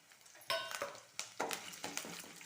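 Curry leaves tossed into hot oil for a village-style gorikayi (cluster bean) palya, giving soft sizzling and several scraping stirs of a spoon against the pan, quiet and close, with no talk.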